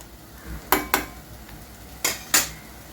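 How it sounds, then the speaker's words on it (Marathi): A spoon scrapes and clinks against a pan while stirring puree gravy for a drumstick vegetable curry, four sharp knocks in two pairs over quiet background. "प्युरी फिरवून घ्या।"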